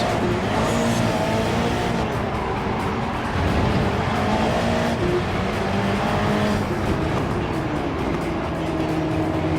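Race cars in the Gran Turismo 7 video game at a Maggiore Nations Cup race, several engines droning and shifting pitch as cars brake for a hairpin and pass, loud and continuous.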